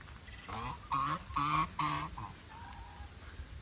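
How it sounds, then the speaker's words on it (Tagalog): Geese honk several times in a quick series at moderate distance outdoors at a village resort, the calls clear over a low background hiss. "May mga gansa pa."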